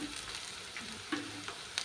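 Ginger garlic paste frying in a pan for a tomato egg curry: a soft, fairly quiet sizzle with a few sharp stirring clicks and scrapes.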